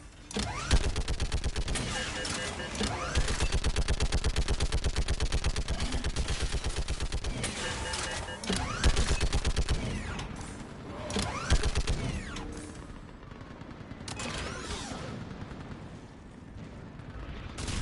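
Sustained gunfire in the video game Mass Effect 3, rapid automatic bursts rattling almost without pause, mixed with mechanical clanks and creaks, then thinning into scattered shots toward the end.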